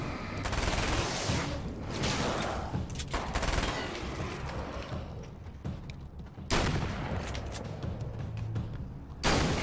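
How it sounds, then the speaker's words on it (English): Submachine gun fire in the video game Alan Wake's American Nightmare comes in dense, rapid bursts with short pauses between volleys, mixed with game sound effects and no audible talk. "As long as I got the submachine right here"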